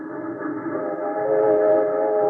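Trains rumble and drone steadily in a railroad yard beside a wax sculptor's flat studio, a continuous loud mechanical hum with a faint whistle-like tone that swells slightly toward the end, with no voices.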